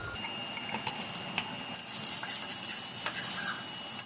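Garlic cloves, chopped small, sizzling in hot oil in a pan as a base for tomato thokku, a steady low hiss with faint scattered crackles and no talking.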